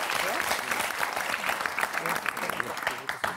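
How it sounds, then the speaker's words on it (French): A game show studio audience applauds the four contestants of the French word game Motus, a loud, steady burst of clapping with scattered crowd noise throughout. "on va applaudir nos 4 candidats qui le méritent bien."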